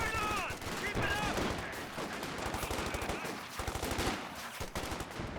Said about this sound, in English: See the MG in the building doing a bit of chip damage.